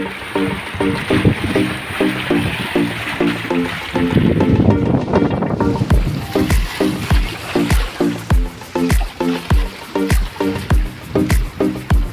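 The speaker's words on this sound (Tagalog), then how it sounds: "Masyadong malakas ng hangin, alon." Strong wind roars across the microphone while waves slap rhythmically against a small boat at Subic Bay, Philippines, a steady sequence of thumping splashes.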